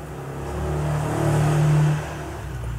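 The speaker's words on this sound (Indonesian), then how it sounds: "itu kipas angin udah mulai berisik." A Sekai 1628 R electric fan with a dust-clogged motor gives off a steady, moderately loud whirring hum that swells slightly in the middle and then settles back.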